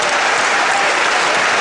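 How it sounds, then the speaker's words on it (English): Crowd at a televised boxing event applauding a 16-year-old boxer after a short bout, a loud, dense, continuous roar of clapping that fills the whole moment without letup. "Steve Kelly, you get that applause."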